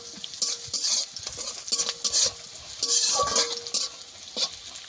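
Gima greens frying in a pan, a bright crackling sizzle broken by repeated stirring scrapes and light metal clinks, close and fairly loud with no talking.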